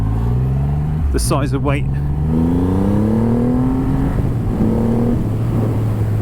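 A Triumph Rocket 3 R 2500cc motorcycle engine droning loudly and climbing in pitch as it pulls along, continuous and close, with a voice talking over it.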